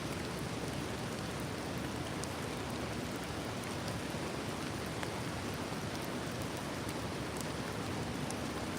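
Rain falling outdoors in the UK makes a uniform, soft hiss with occasional faint drop clicks, continuous and even throughout, with no talking.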